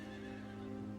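A horse gives a brief, faint whinny, a steady tonal call lasting about a second over a low background hum.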